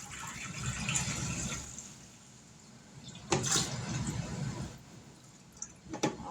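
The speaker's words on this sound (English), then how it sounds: "it says to pour the water in after you get the jars in there, 2 quarts of water" Two quarts of water are poured into a Nesco smart canner holding jars, with a soft steady trickle and splash that swells and fades, broken by a few sharp clinks and knocks near the end.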